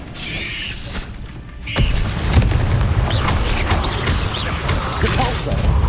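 A Confringo fire spell bursts in Hogwarts Legacy during a spider-filled house fight, with a loud blast hitting at once and a sustained rumbling, crackling roar afterward, alone without voices.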